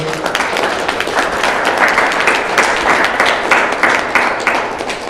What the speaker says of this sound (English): We have a round of applause for our panelists here